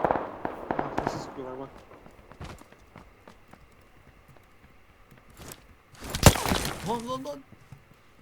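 Gunfire in the battle royale game PUBG Lite, a few sharp cracking shots near the start and a loud burst later, with players talking in Turkish between the shots.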